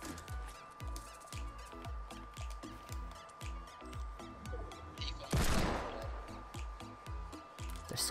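Gunfire in the video game Fortnite: a long string of evenly spaced sharp shots fires at a fast steady rhythm, with a louder crashing burst partway through.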